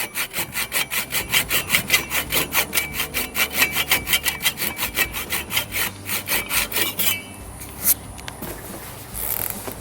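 Rhythmic hand sawing on a wooden bung, trimming it flush with the exterior woodwork of a Cape Dory 25D sailboat. Steady back-and-forth strokes run close and clear for about seven seconds, then stop, leaving a few light scrapes.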